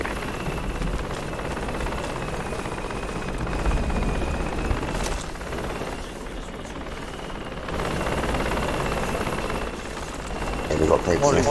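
A helicopter in the Project Reality war game makes a loud, steady rotor and engine roar that carries throughout, with voices talking over it and faint gunfire bursts mixed in.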